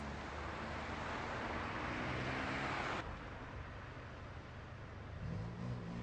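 Street traffic held at a red light gives a steady, broad rumble of idling and slowly moving cars, dipping slightly partway through, with no one speaking.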